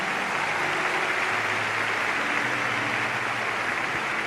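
A large audience at a Brazilian gathering bursts into loud, sustained applause, a dense wash of clapping that stays even and unbroken from start to finish.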